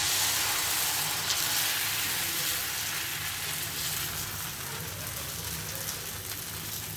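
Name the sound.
oil heating in a frying pan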